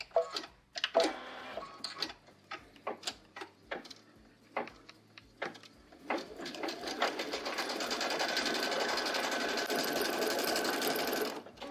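Embroidery machine stitching a placement outline on stabilizer for a quilt block, first with rapid uneven needle taps, then settling into a loud, steady, fast mechanical chatter, close by with no talk.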